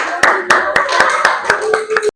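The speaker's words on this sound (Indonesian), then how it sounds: "Tepuk tangan dulu dong." Primary school pupils in a classroom clap in unison, a steady rhythmic series of about nine sharp claps in quick succession with children's voices chanting underneath.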